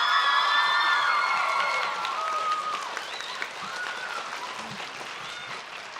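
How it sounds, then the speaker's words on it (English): Applause from a crowd at an end-of-year junior high choir concert, with a few whoops and shouts near the start before the clapping tapers to a softer, steady patter. "So will you please give Ella a round of applause?"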